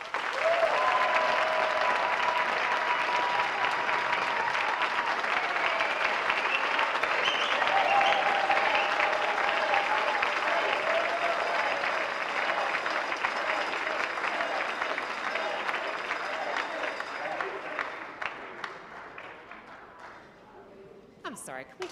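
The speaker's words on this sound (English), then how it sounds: "can we just have one more round of applause for Tracy?" Long, dense applause from an awards-night audience at the All-America City celebration, a loud steady wash of clapping that slowly thins and fades out near the end.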